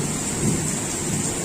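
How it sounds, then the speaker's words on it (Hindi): Heavy rain pours down steadily, with a deep low rumble of thunder rolling through close by and loud, with no voices over it. "फाइनाली वर्षा आज पूरा जोर जोर है।"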